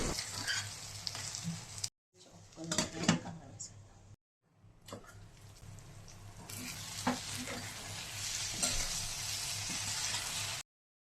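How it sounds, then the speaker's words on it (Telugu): A spicy egg curry is stirred in a pan, with faint scraping and a steady sizzle of frying underneath. The sound cuts out twice briefly, and a voice talks over parts of it. "మధ్యలో అడుగంటకుండా ఉండడానికి కలుపుకుంటూ ఉండాలి."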